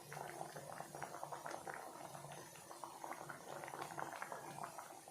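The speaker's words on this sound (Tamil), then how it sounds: "பாருங்கள் ஒரு கொதி வந்தாலே போதும்" Egg omelette curry simmers in a pot as it comes to a boil, a steady, soft bubbling and gentle popping that runs on evenly at low volume throughout, with no voices.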